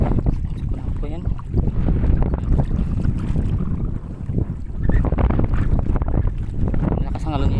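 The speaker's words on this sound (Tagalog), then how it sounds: "malakas lang ang hangin" Strong wind roars and buffets the microphone over the sea, with churning water and a voice talking underneath.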